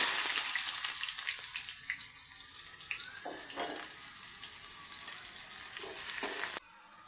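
Onions frying in hot oil for a prawn and tomato curry, a steady close sizzle with a few faint scrapes before it cuts off abruptly near the end.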